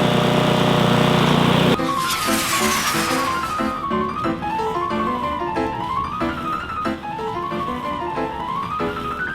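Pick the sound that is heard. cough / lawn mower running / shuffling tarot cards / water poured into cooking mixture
lawn mower running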